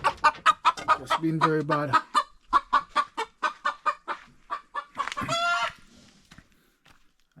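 A rooster clucks in a rapid, rhythmic series of close bursts in the Jamaican countryside, ending in a louder squawk, with a person briefly speaking.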